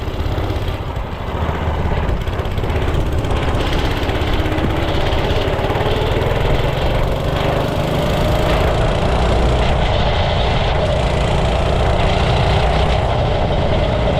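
Homemade minibike engine running steadily, a loud, rough small-engine drone that holds a constant idle-like pitch for the whole stretch, close up and with no talk.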